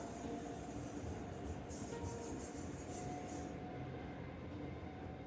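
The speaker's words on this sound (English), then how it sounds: "the sound of the subway" NYC subway train rolling along the tracks, a steady loud rumble with rattling wheels and a brief high squeal early on, continuous throughout.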